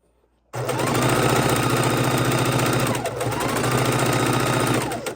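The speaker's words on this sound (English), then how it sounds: "we are going to chain stitch these" A sewing machine chain-stitches quilt pieces in one loud, steady, fast run after a brief quiet start, its rapid mechanical whir staying even until it stops near the end.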